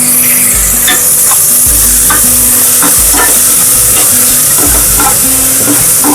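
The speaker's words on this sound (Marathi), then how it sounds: "आता हे आपण चांगलं परतून घ्यायचंय." A ground paste of coconut, chili, garlic, ginger and coriander sautéing in hot oil, loud steady sizzling with repeated scraping stirs of a spoon against the pan, no voices.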